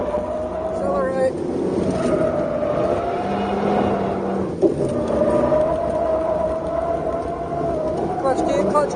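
A car engine revs and accelerates hard after clutch kicks, rising tonal engine whine sustained and loud up close, with a brief dip midway and voices talking over it.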